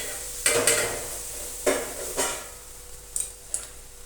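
A spoon or spatula stirring food with lemon in a pan, several separate scraping strokes over a soft background sizzle, with a couple of light metallic clinks near the end, no voices.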